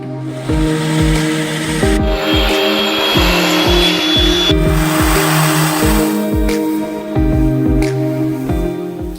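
A loud, steady grinding whine from a polisher running continuously on a concrete slab, with a rough droning hum and repeating pulses, close up.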